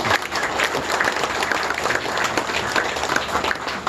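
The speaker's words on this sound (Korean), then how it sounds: "이 로고에 박수 한번 부탁드리고요" Audience applause at a memorial ceremony for a police commissioner, a dense, steady wash of many hands clapping throughout, fairly loud and close, with no speech over it.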